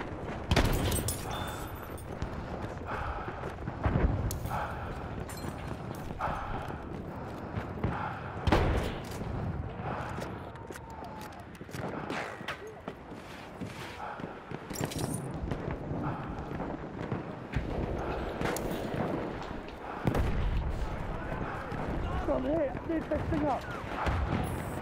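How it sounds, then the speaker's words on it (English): Battlefield 1 multiplayer match on Xbox One with repeated grenade explosions and scattered gunfire, booming blasts and shot bursts recurring throughout at varying distances under near-constant player talk. "Grenades. They are everywhere, holy shit."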